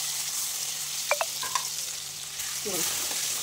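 Cumin, mustard seeds and turmeric powder sizzle in hot oil for shepu (dill) bhaji, a steady close hiss with a few sharp crackles and pops from the seeds.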